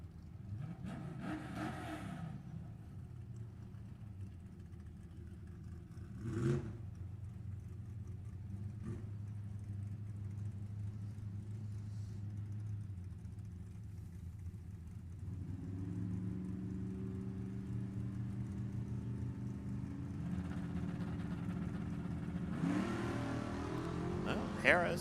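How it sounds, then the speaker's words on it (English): A big truck launches at a drag race at Sacramento Raceway, its engine rising in a mid-distance roar and rumble that holds steady and climbs again later, with an announcer talking over much of it. "The big truck gets moving fast."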